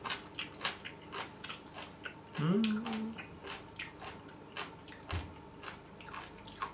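Someone chews stuffed beef tripe up close, with a steady stream of wet squishing and biting sounds and a brief hum partway through, no talking.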